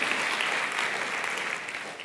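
A church congregation at a Spanish-language sermon applauds together, a dense, even wash of clapping that holds steady throughout.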